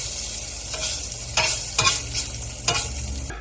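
A frozen pork patty for a McRib-style sandwich sizzles steadily on a hot griddle just after being flipped, with a few sharp scraping spatula knocks over the continuous close frying hiss.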